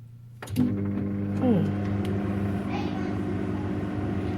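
A microwave oven steaming sticky rice switches on after a brief quiet moment and settles into a steady, close, low electrical hum with a slight buzzing edge that runs unbroken to the end.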